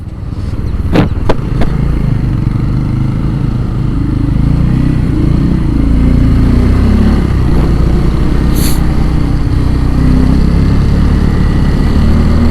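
A motorcycle on a long ride from Kolkata toward Siliguri passes through a highway toll plaza, its engine droning loud and steady with wind rush throughout and a few brief clicks near the start.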